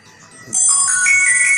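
Mobile phone ringing with an incoming internet call: a loud electronic ringtone that bursts in after a quiet start, its bright layered tones sustained and overlapping, heard close with no talking.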